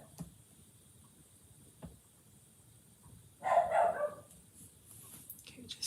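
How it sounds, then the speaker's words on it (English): A dog barks in a short burst of several loud, close barks after a quiet stretch, with soft room noise and occasional faint sounds around it. "He's a barky kind of guy."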